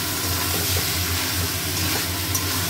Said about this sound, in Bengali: চিকেন কষা হচ্ছে।